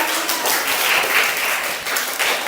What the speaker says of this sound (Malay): Okey, berikan tepukan.